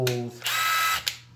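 A Makita LXT brushless sub-compact cordless impact driver spins up briefly with a whine, runs at a high steady pitch for about half a second, then stops with a short click, heard close and alone.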